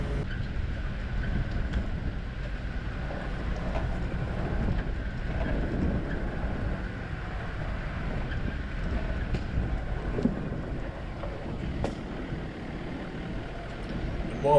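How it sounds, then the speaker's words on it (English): A truck engine holds a low, steady drone under engine braking on a steep bush-track descent near Devils Hollow, with rumbling tyres and wind buffeting the microphone and no talk throughout. "letting the engine braking do its thing and control this descent"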